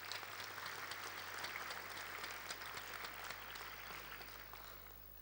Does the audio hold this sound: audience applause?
yes